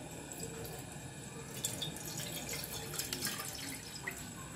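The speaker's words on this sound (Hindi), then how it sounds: "इसमें हमें 1 गिलास पानी डालना है।" A glass of water poured into a cooking pot on a lit stove while making Kathiawari cholay, a soft continuous splashing trickle close up with small drips and clinks.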